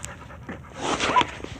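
A dog pants in quick, breathy bursts while out on a walk, close by and moderately loud.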